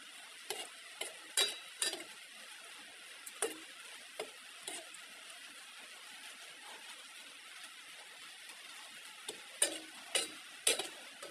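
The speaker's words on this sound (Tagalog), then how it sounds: "Ayan, kumukulo na kulo na siya." Tilapia in fresh coconut milk boiling in a pot, a quiet bubbling simmer with scattered louder pops and clicks breaking through irregularly, close up and without speech.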